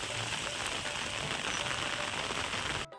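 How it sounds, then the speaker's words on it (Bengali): Steady, dense patter of heavy rain pouring down on a street, constant hiss without pauses, cutting off abruptly at the end. "দেখো কী হারে বৃষ্টিটা হচ্ছে দেখো"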